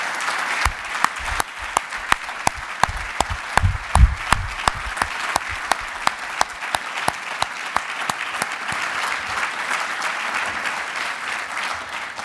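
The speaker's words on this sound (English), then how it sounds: "join me in another round of applause" Loud, sustained audience applause for young award winners at an achievement awards ceremony, dense clapping from a large crowd with sharp individual claps punctuating the steady roar, continuing throughout with no speech over it.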